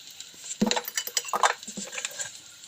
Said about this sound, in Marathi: ते कढईमध्ये टाकून पुन्हा चमच्याने मिक्स करून घ्यायचं आहे चांगल्या प्रकारे